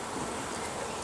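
A dense, steady buzz of many bees flying around a hive entrance on a bee farm, continuous droning swarm close by with no talking.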